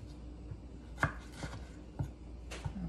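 A knife cuts potatoes into quarter-inch batonnet sticks, with sharp, close chops landing on a board about once every half second, fairly quiet, with no talking.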